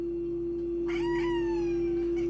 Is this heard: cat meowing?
yes